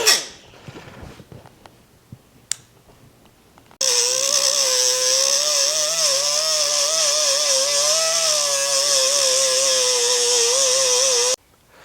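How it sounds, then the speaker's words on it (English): A grinder removes a weld to free a pin on a Coleman UT400 shift lever, with a loud, sustained grinding roar of about eight seconds that starts abruptly after scattered clanks and stops sharply. "now we've got that pin out, we grinded it off"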